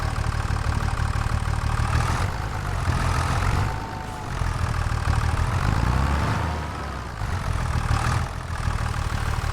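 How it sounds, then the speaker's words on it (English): A tractor engine in Farming Simulator 25 drones steadily in the woods, a continuous mid-to-low idle rumble with slight swells in load, heard alone without talk. "See if we can get the tractor stuck back in here in the woods."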